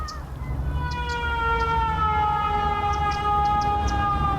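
A fire truck siren wails in the Cities: Skylines city-building game, a steady, loud, tonal siren with slowly gliding pitch, carried over a low rumbling background.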